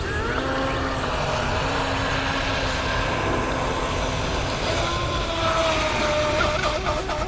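A Pro Boat Widowmaker RC boat speeding across water, its motor a steady high-pitched whine with shifting tones over a rushing, hissy wash, moderately loud and continuous throughout.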